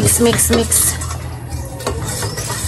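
A spoon scrapes and clinks in a container while mixing a popsicle mixture with cornstarch, giving several quick rhythmic knocks followed by quieter swirling scrapes.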